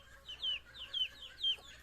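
Brahma chickens and roosters clucking close by in a henhouse, three short, rising squawking calls repeating at an even pace over a low background murmur, with no talking.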